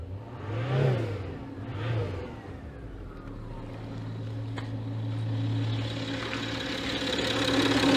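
A Citroën C6 engine revs up a couple of times and then settles into a steady idle, close by; the car is suspected of a small exhaust leak.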